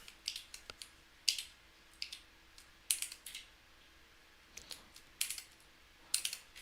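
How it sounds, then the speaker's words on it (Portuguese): Computer keyboard typing during a Brazilian programming marathon, a programmer coding in C++: quick clusters of light clicking keystrokes in irregular bursts, close and fairly quiet, with no talking. "Meu teclado está um pouco estranho recentemente."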